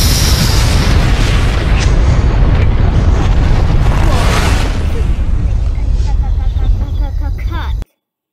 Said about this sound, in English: When you put the cable on, you just made an explosion.